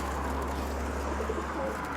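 Pigeons coo softly and continuously inside a dovecote, a low murmuring texture under steady background hum, with no talking.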